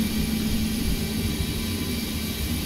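A jet aircraft engine spools up in a flight simulator game with a steady, dense roar and a faint hum layered in. The sound is moderately quiet, continuous, and has no talk over it.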